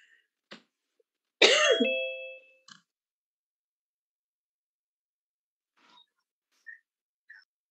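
A single harsh cough bursts out close up during a lecture, followed by a short throat-clearing sound and a few faint scattered noises in otherwise quiet surroundings.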